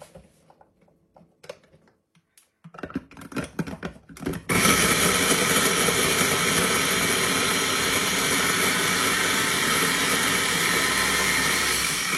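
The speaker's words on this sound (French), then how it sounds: "Il faut mettre les oignons dans le mixeur." A few clicks and rattles, then a blender starts up and roars loudly and steadily, chopping onions nonstop.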